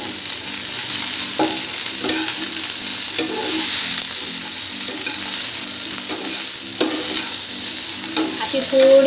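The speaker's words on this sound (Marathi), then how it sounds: "तर इथं आपली भेंडी फ्राय होते" Okra fries in a little oil in a pan, giving a steady loud sizzle and crackle throughout, broken by several scraping stirs of a spoon.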